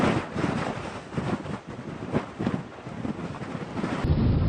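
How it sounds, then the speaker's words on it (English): Strong wind roars through a dust storm, buffeting the microphone in loud, uneven gusts that swell and dip without letting up. "Wind speeds have been increasing."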